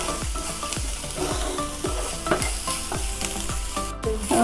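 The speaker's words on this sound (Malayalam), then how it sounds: "സവാള നല്ലോണം വഴന്നു വന്നിട്ടുണ്ട്" Onions and curry leaves sautéing in a pan, with a steady hiss of sizzling oil and repeated scraping strokes of a spoon stirring at a regular rhythm, close and moderately loud.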